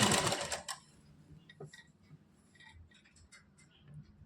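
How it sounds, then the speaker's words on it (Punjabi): A sewing machine with a single presser foot stitches piping along the edge of a turned-out kameez in a short loud whirring run, followed by quieter ticks and light clicks. "ਦੇਖੋ ਕਮੀਜ਼ ਪੁੱਠਾ ਕਰਕੇ ਬਿਲਕੁਲ ਇਹਨੂੰ ਕਿਨਾਰੇ ਤੇ ਰੱਖ ਕੇ ਇਸ ਤਰ੍ਹਾਂ ਸਲਾਈ ਲਗਾਉਣੀ ਹੈ"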